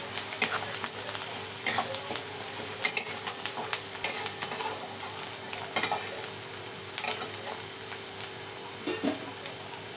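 Onions browning and frying in a pan for a Maharashtrian shev-onion curry, a steady sizzle broken by irregular scrapes and clicks of a spoon stirring against the pan, close and clear with no voices.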